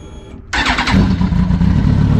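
2008-2010 Kawasaki ZX10R motorcycle engine starting: a brief quiet whir, then a sudden loud catch into a rough, throbbing close-up idle with a quick rev, no talk.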